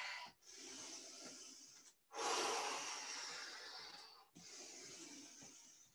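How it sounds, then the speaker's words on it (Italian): Deep, forceful breaths during a fat-burning total body circuit workout, three long noisy inhale-exhale bursts close to the mic separated by brief pauses, with no talking. "Respiriamo profondamente."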